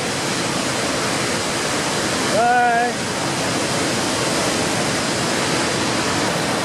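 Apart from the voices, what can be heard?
Victoria Falls waterfall roaring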